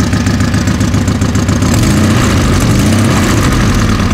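A freshly rebuilt motorcycle engine idling loudly up close, a harsh, steady throbbing drone with a possible exhaust or gasket leak, running continuously without speech.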